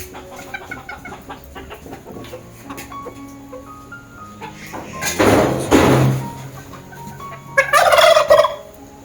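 A turkey at a pet bird enclosure in Darjeeling lets out two loud, rattling gobbles near the end, over quieter background clucking from other fowl, with no talking.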